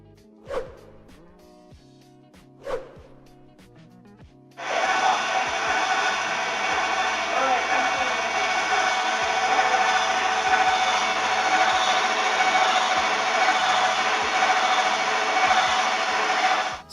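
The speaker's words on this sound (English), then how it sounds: "So here we have our unit in operation, swinging around." Veto slow-RPM masticating juicer running alone, a steady loud grinding whir that starts abruptly after two faint knocks and holds constant.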